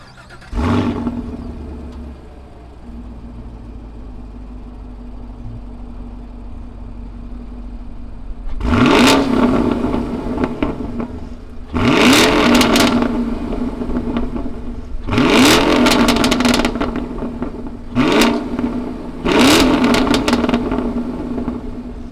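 A 2020 Chevrolet Camaro SS with a pushrod V8 cranks and fires up, then settles into a loud idle broken by five sharp throttle blips that roar and fall back, heard up close with no talking.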